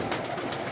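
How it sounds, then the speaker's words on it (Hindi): Pigeons on a rooftop give a soft, brief coo, faint and slightly distant, with no one speaking over it. "कबूतर कबूतर जो है ना सारे ही ये देखिए ऊपर टंगे हुए हैं"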